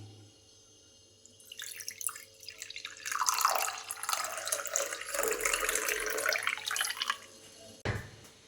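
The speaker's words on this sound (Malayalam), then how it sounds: "തിളപ്പിച്ചാറിയ വെള്ളം ഇത് നമ്മൾ കപ്പിലേക്ക് ഒഴിക്കുക." Boiled water that has cooled is poured into a cup, a rising splashy trickle that builds and fills for several seconds before stopping, close and fairly quiet with no speech.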